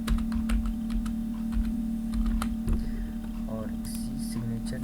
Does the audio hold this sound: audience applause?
no